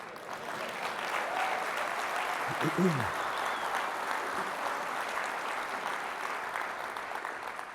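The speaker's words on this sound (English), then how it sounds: "Go ahead and applaud for that." Audience applause fills a hall at a US Space Force event, steady and sustained throughout, with a voice briefly speaking over it near the middle.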